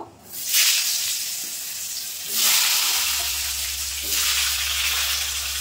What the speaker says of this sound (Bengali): ওই তেলের ভিতর কিন্তু এরকম লম্বা লম্বা করে কেটে রেখেছি আলু, এই আলুগুলো কিন্তু ভেজে নেব।